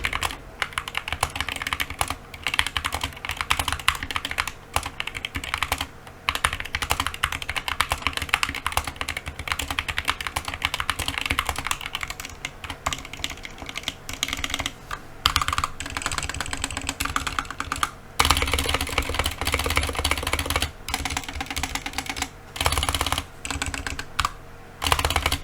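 Steady, brisk typing on an Epomaker SK61, a budget 60% mechanical keyboard, with close, continuous clacking keystrokes and occasional heavier spacebar hits, no talking.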